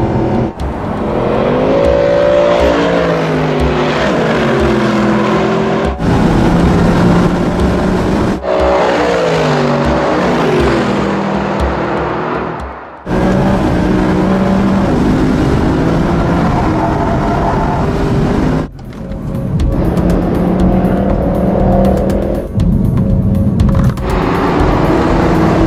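A 2014 Mercedes-AMG Black Series car laps the Big Willow circuit at Willow Springs International Speedway, its engine roaring loud and close with repeated rising pitch sweeps, gear-change breaks and brief lifts between pulls.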